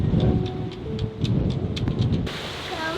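Steady rain patters all around with a low rumble of thunder underneath, close and constant throughout.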